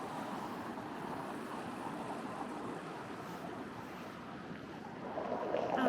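Sea waves wash in a continuous, broad rumble at a Helsinki waterfront, with wind noise over the microphone that swells slightly toward the end; no voices.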